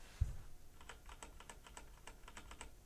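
Keys clacking on a Razer BlackWidow Ultimate 2014 Stealth Edition mechanical keyboard with quiet 45-gram switches, a steady run of soft, fairly faint keystrokes after an initial thump, with no talking.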